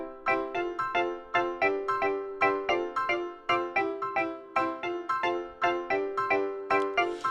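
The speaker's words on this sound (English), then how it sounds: "The first piano and the electric guitar plays like this." Piano and electric guitar play a bright, bouncy Afropop highlife pattern together, short rhythmic chords repeating in a steady syncopated groove with no voices.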